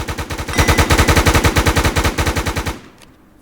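Rapid automatic gunfire in the Minecraft WarZ video game, a loud close burst of evenly spaced shots for nearly three seconds before cutting off into quiet.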